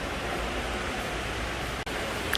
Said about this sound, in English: I hear waterfalls.